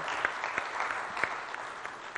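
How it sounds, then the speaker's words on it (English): Small audience at a classical dance performance applauding, a moderate patter of hand claps with a few distinct sharp claps, fairly quiet and even throughout. "let's have a round of applause"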